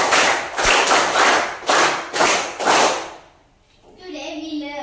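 Students in a sixth-standard classroom clapping for a classmate, a few strong rhythmic rounds of close, loud claps lasting about three seconds, then a short pause before a voice starts speaking.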